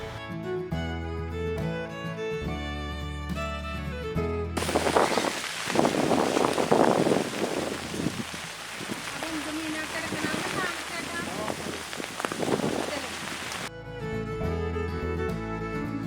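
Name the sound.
light rain falling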